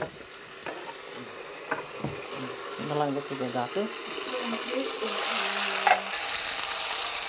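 Food fries in a pan with a crackling sizzle while a spoon stirs and scrapes, the sizzle swelling louder toward the end as someone speaks over it.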